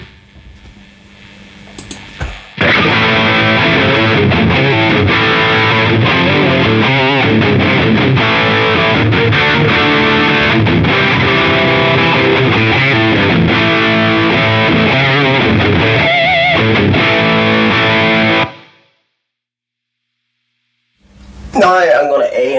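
A distorted electric guitar through a Line 6 Helix modeler's stock cabinets plays a steady riff for about sixteen seconds, loud and close, then stops abruptly before a brief return at the end.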